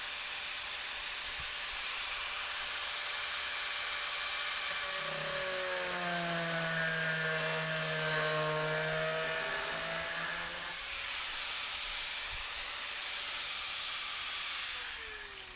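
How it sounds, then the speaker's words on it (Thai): An angle grinder cuts an opening in a 20-litre plastic drum. A steady whining tone rises in pitch over about six seconds in the middle, over continuous loud hiss and rushing noise. "ค่อยทำการเจาะรูนะครับ ด้วยการใช้ หินเจียครับ ค่อยๆตัดเปิดช่องครับ"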